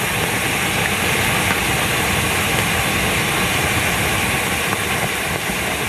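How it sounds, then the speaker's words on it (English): A lava flow meets a pond in Hawaii, producing a loud, dense, continuous crackling hiss that holds steady without pause and without any voices over it. "listen to the crackling as the lava flow meets a pond in Hawaii"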